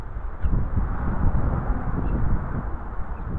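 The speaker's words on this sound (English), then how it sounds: "It's very windy." Steady wind buffets the microphone of a Hubsan H501S-S drone controller with a low, rumbling roar that rises and falls slightly but never stops.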